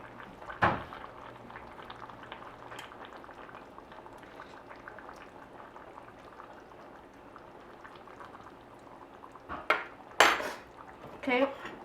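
Salted codfish with chickpeas, peppers and tomatoes simmers in a pot with a soft, steady bubbling. A pan clank comes early, and a few louder clatters of pots and utensils follow near the end.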